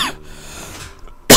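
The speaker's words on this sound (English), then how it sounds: "excuse me for that coughing" A couple of short, harsh coughs close to the microphone, one at the very start and a louder one at the end, with near-quiet in between.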